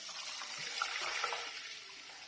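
About 1.5 litres of milk poured into a shiny kadai for gajar halwa, a soft, steady liquid stream with faint trickling bubbles, quiet and close.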